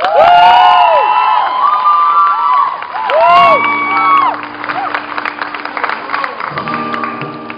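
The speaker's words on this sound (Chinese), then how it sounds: "掌声先不用那么大声，我怕他们会骄傲。" A big crowd at an outdoor concert in Da'an Forest Park cheers, whoops and applauds loudly in bursts, then settles into quieter scattered shouts near the end.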